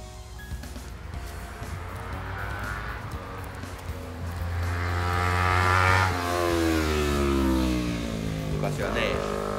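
A motorcycle accelerates along a mountain road near the Arashiyama-Takao Parkway junction, its engine note rising and sweeping closer and louder over several seconds, with rising harmonic pitch as it passes, under a steady mixture of traffic noise.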